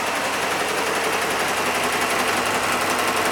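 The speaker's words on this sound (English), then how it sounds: "Now we'll take a look at the embroidery machine as it does the actual stitching of the logo." Commercial embroidery machine stitching a complex custom logo, a fast, steady, close mechanical chatter of the needle going up and down with no pauses.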